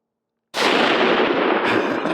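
Rifle shot fired while hunting whitetail deer in Virginia, a sudden loud blast that cuts out of silence and rolls on as a sustained booming echo.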